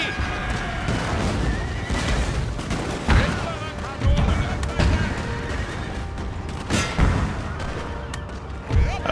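Cannon fire from a battle in the Napoleonic strategy game Napoleon: Total War, with loud booming reports at irregular intervals amid horse whinnies, hoofbeats and general battlefield noise; voices speak over parts of it.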